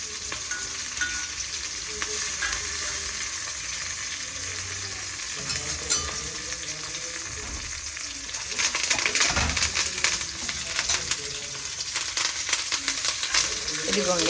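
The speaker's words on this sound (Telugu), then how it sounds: "ఇదే ఆయిల్లో వేసి ఫ్రై చేసేసి అంతే గ్రైండ్ చేసేస్తారు" Curry leaves frying in oil for a Telugu-style raw amla pickle, a steady broadband sizzle that swells louder and crackles harder in the second half, with occasional stirring sounds and no talk.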